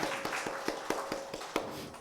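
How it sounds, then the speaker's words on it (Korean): An audience at a church presentation claps in a steady, even rhythm, each beat distinct and moderately close, for about two seconds with no talking. "우리 박수 한번 쳐주죠"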